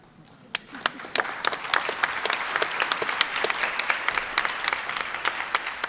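Conference audience applauds at the 2016 EDGY Conference, a steady wash of clapping with distinct sharp claps standing out, building in at the start and holding fairly loud and close throughout.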